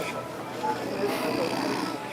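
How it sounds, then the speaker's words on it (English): A man passed out on the floor of a Walmart store snores with rough, steady breaths, while people around him talk. "Is he sleeping? It sounds like he's snoring."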